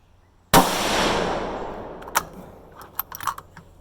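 A Ruger rifle in 6.5 Grendel firing a Hornady 120-grain ELD load outdoors: one sharp, loud close shot that rings out and decays over a couple of seconds, followed by faint clicks and handling noises.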